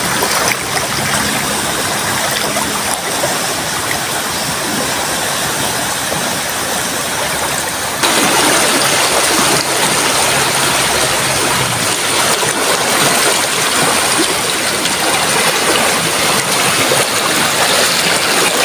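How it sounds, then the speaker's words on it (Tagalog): A strong river current rushing near a bridge after a sudden rise in water, a loud, dense, continuous roar that swells in intensity partway through, with no talking. "Lakas ng agos."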